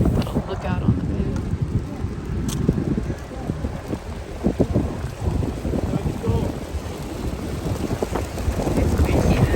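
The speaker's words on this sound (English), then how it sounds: "It's windy today." Strong wind buffets the microphone outdoors on the bay beside the USS Midway, a continuous loud roar with gusts, while people talk faintly underneath.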